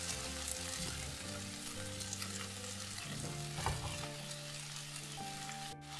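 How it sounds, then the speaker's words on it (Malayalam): Prawns sizzle softly in a pan while being stirred, a steady quiet frying hiss with scattered light scrapes and crackles and no speech. "അതും ഒന്ന് വഴറ്റിയതിന് ശേഷം നമുക്ക് എടുത്തു വെച്ചിരിക്കുന്ന ചെമ്മീൻ കൂടെ ചേർത്ത് കൊടുക്കാം."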